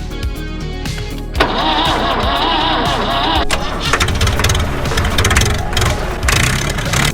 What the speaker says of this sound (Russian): двигатель все же удалось запустить